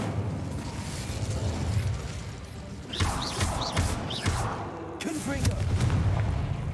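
Fire spell cast in the video game Hogwarts Legacy, a run of booming blasts and crackling bursts over a low rumbling game soundscape, with sharp whooshing flares rising partway through; a voice talks during the clip.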